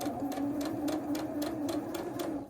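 A sewing machine stitches a scant quarter-inch seam on a Civil War sampler quilt block, running steadily with a fast, even needle rhythm and regular clacks, close and loud throughout.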